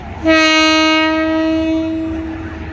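Ordinary train no. 207 from Bangkok Hua Lamphong to Nakhon Sawan at Lopburi station sounds its horn: one loud, close, steady two-second blast that fades at the end, over low station rumble.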